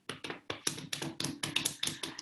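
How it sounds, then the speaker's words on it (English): A hand taps rhythmically down the arm during do-in self-massage: about a dozen quick, close, dry slapping pats in a steady patter, without speech. "take your hand down the arm, really give it a tap"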